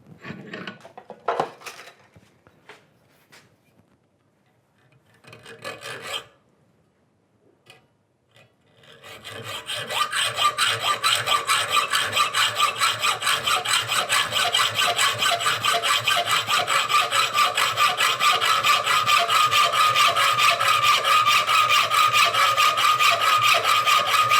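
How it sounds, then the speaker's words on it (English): A hacksaw cuts through metal clamped in a woodworking vise, its steady back-and-forth rasping strokes running loud and close for about fifteen seconds after a few scattered handling knocks. "We're going to take the hacksaw."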